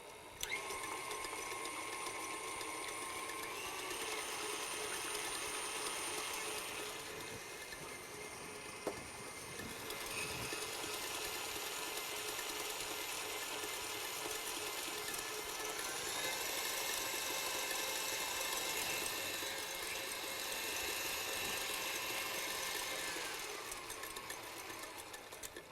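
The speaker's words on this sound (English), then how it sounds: "So I'll just turn on my mixer." An electric mixer whips egg whites into foam in a kitchen, giving a steady, fairly quiet mechanical whir that runs unbroken throughout with slight shifts in pitch and no talking.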